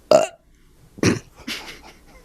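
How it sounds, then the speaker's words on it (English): Two loud, close burps in quick succession, followed by a softer, shorter one. "It was a burp."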